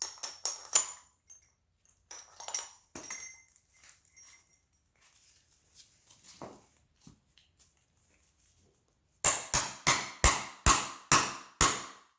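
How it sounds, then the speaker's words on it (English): Loud, sharp metallic hammer strikes drive a new bushing sleeve into a car's compensator (toe) arm, about six in a steady rapid run near the end, after scattered clinks and handling noises. "you take this new sleeve and you hammer it in"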